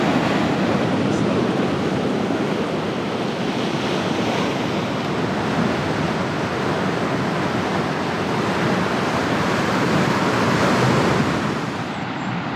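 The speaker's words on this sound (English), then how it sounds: "This is a beautiful little beach, this one, Dixon Beach." Surf rolls onto Dixon Beach at Norah Head on the NSW Central Coast, a continuous broad wash of breaking waves with steady wind buffeting the microphone and no voices.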